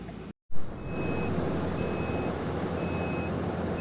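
A winch's steady electronic beep tone repeats a few times over a low, continuous rumbling background, with a brief dropout near the start.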